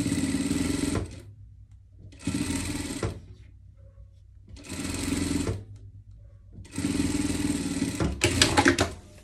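A sewing machine runs a French seam on surgical clothing in four steady whirring bursts of about a second or more each, separated by short pauses, close and loud with no talking.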